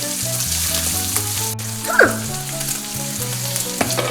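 Steady sizzling of bacon frying in a pan, with a brief clatter of stirring and a low hum underneath.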